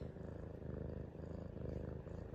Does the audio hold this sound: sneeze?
no